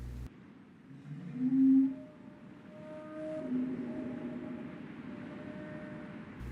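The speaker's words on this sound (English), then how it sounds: "it almost sounds like a whale" A whale-like call sounds when a button is pressed in the puzzle game Riven, a low, drawn-out moan with a swell near the start, set against a steady, faint ambient drone.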